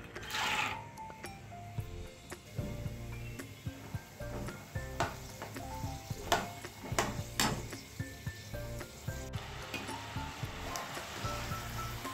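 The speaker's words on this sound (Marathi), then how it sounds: "आपण याच तेलामध्ये आता चिवड्यासाठी शेंगदाणे तळून घेऊयात" Peanuts fry in oil for chivda, a soft steady sizzle with scattered clinks and stirring taps from a spoon against the pan, heard close and fairly quiet.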